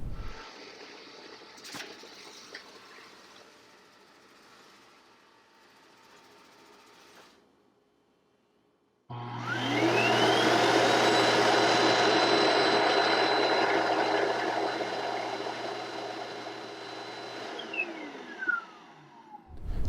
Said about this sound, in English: we actually let the base pull all the dust and dirt out of the unit